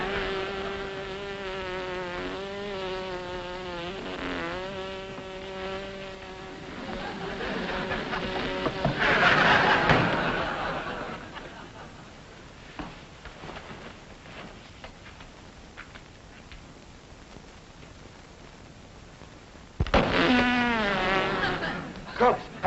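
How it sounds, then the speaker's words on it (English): A bee buzzes indoors nearby in wavering bursts, fading out midway and returning loudly near the end. "There's a bee in the room."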